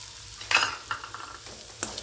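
Dried coconut sautéed in a pan for sambar rice, a soft sizzle with a few quick spatula scrapes and taps close by, no talk.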